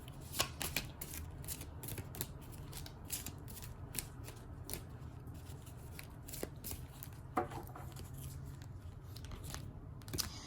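Tarot cards being shuffled by hand, a soft continuous riffle of rapid papery flicks and taps, close but quiet, with no talk.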